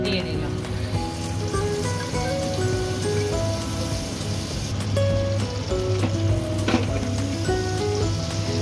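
A spoonful of Amul butter melting in a pressure cooker gives a steady, moderate sizzle like light rain, with a faint background tone running throughout.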